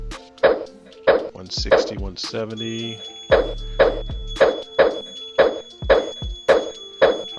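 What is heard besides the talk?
phone notification binging in background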